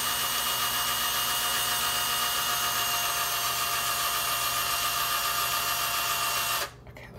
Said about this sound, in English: Power tool is done.